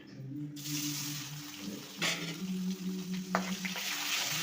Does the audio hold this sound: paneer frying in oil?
yes